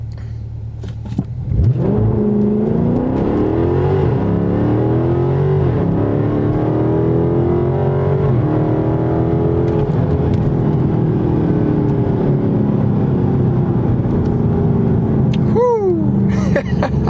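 A Dodge Charger Scat Pack with the track pack launches hard down a road with some wheel spin. The loud, close engine roar climbs through several gear shifts and holds a steady, powerful drone to the end.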